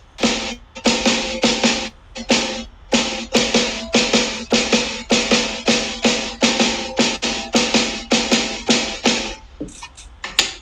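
A drummer plays a double-beat exercise on a drum kit, each stroke bouncing into two quick notes, giving a steady run of closely paired sharp hits, close and fairly loud, with brief pauses between phrases.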